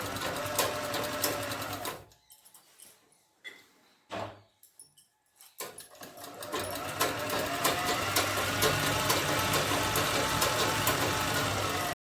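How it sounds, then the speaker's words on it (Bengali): A sewing machine stitches a six-panel petticoat. Steady runs of rapid needle chatter break into short stop-start bursts and near-silence, then pick up again into a long unbroken seam. "সমানভাবে সেলাই করে দিতে হবে হাফ ইঞ্চির মতো কাপড় নিয়ে সেলাই করতে হবে"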